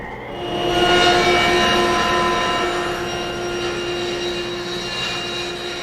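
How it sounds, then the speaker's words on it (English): A table saw resawing a thick wooden bed rail for a Mission-style bed gives a loud, sustained tonal whine with a harsh cutting roar that swells early and stays steady throughout. "Now if you're using a smaller table saw, we could of course resaw it in half first and then rip it to width."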